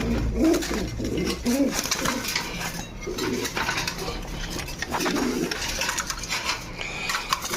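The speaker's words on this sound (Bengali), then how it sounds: "লালটা নর আপনি দেখতে পাচ্ছেন ডাকতেছে" A red male pigeon coos repeatedly in low, throaty bursts close by, with faint rustling and scraping around it.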